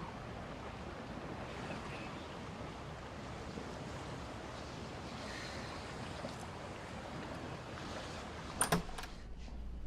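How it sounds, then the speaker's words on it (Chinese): Sea waves outside a hotel, a faint, distant, continuous wash of surf for about ten seconds, with a few brief sharp knocks near the end. "大海"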